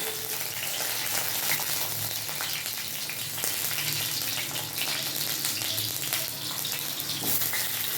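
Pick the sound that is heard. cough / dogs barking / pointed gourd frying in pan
pointed gourd frying in pan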